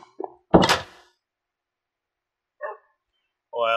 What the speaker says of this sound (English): Oh, I found a name for this dog.